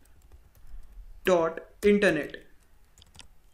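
Soft keyboard clicks from someone typing Android WebView app code on a computer, mostly buried under a voice, with a few faint taps heard alone near the end.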